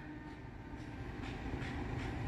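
The Malabar passenger train from Malang rumbles at Gedebage station with a steady, fairly faint rolling drone and soft rhythmic wheel clatter that builds slightly in loudness toward the end.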